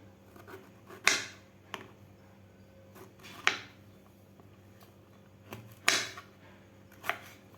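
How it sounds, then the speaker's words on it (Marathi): A knife finely chopping ridge gourd (gilke) on a board in a home kitchen, heard as sparse, crisp, fairly quiet cuts at irregular intervals over a faint steady hum, with no talk. "कोळे गिलके आहेत आपले एकदम बारीक कापून घ्यायचा याला"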